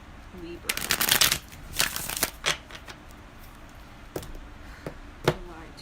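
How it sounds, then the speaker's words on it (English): Tarot cards being shuffled in quick riffling bursts, with a few sharper snaps spaced out afterward against a quiet background. "Shuffle."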